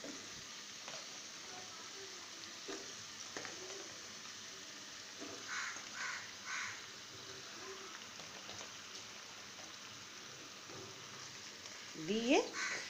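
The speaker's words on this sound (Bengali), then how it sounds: "এখনই তেলালা ভাজা মশলার ভিতর এই লাউগুলো" Bottle gourd frying in oil with fried spices makes a faint, low sizzle under quiet room noise, with a few brief louder bursts and a short tonal sound near the end.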